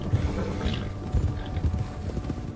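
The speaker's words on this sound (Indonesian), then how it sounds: "Naik kuda lagi." Horse hooves clip-clopping in Red Dead Redemption 2 as a rider travels, a steady near trotting rhythm of soft thuds over a continuous game ambience.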